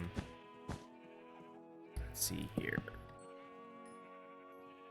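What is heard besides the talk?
sheep bleating in Minecraft video game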